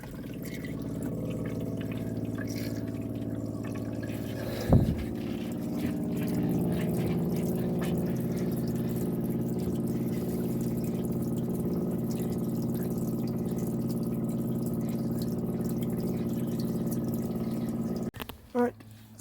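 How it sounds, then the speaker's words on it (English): Cold water flushing through the fresh water pipes of a campervan: a steady rushing flow with a low pump hum, a brief clunk early on, and a sudden stop near the end. "We'll just flush through the cold now."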